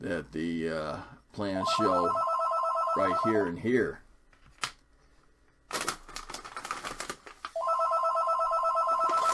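A telephone rings in loud repeated bursts in a workshop during a model build, the bells alternating with someone talking, then sounding again on their own.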